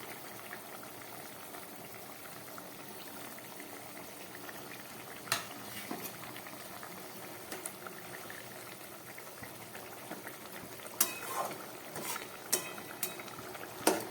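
Spicy bele fish curry with potatoes and eggplant bubbling in a pan: a steady soft simmering hiss throughout, with a few sharp clinks and scrapes of a utensil toward the end, no talking.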